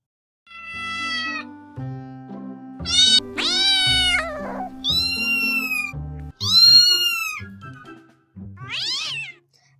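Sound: cat meowing

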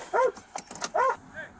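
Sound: dog barking

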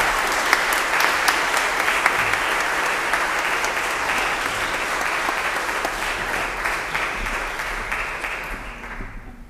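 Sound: congregation applause at memorial service

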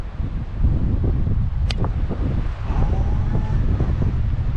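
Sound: strong wind on a golf course

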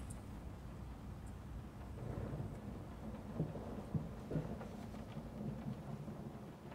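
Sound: rain and thunder in Layers of Fear video game

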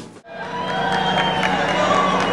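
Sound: people cheering

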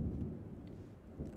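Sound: thunderstorm in The Sims 4 video game

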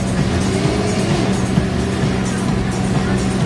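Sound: motocross motorcycle engine doing wheelies

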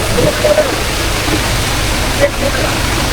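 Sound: floodwater rushing across a road

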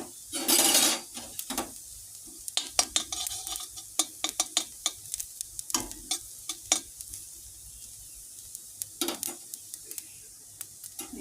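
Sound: black cumin and cumin seeds frying in oil

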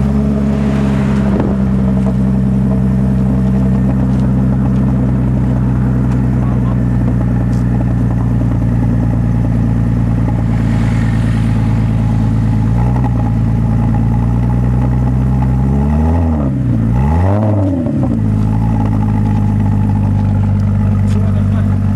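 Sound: V6 car engine revving

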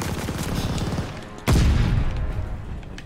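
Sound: gunfire in video game Call of Duty: Vanguard

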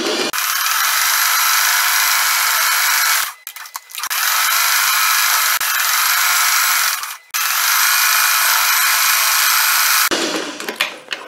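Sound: sewing machine sewing a zigzag stitch

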